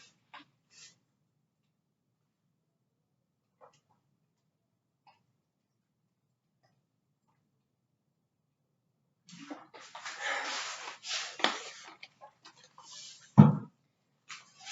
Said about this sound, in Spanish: Voy a beber un poco de agua